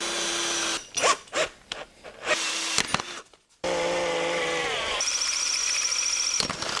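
A tool working a bolt loose on an Audi A4 2.0T engine during teardown, with close scraping, clicking and rattling, then a sustained whirring tool run with a rising whine.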